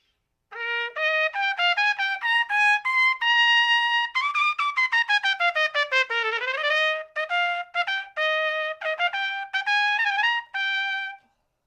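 A piccolo trumpet plays a quick run of bright, clear, nearly flute-like notes, close and solo, with short detached tones and a brief gliding passage in the middle.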